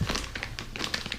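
A plastic bag crinkles around a Kingtech 160 G4 model turbine engine during unboxing, a string of close, crisp rustles and crackles in uneven bursts with no talking.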